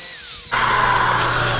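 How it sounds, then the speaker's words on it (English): A small wire cup wheel chucked in a 3/8-inch electric drill spins up after a short pause, then grinds steadily against a Ridgid 18-inch pipe wrench being restored, loud and close with a continuous metallic whine. "Let's try out this little wire cup wheel in just a 3/8 electric drill."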